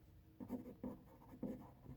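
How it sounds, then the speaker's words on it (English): A pencil sketches texture lines on paper, drawing a tiled floor in a perspective illustration: three or four soft, quick scratchy strokes, close and quiet. "I'm just going to draw a little textures here to indicate that this is some type of"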